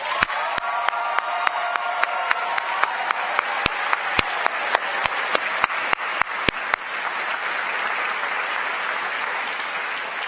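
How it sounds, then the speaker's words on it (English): A commencement crowd applauds faculty marshals, dense steady clapping with sharp individual claps standing out, continuing for several seconds and thinning slightly toward the end. "Please join me in giving them a round of applause"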